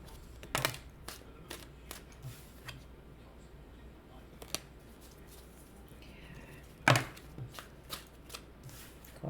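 A deck of tarot cards is shuffled close by, with scattered dry clicks and a few sharper riffles and taps over quiet room noise, no talk.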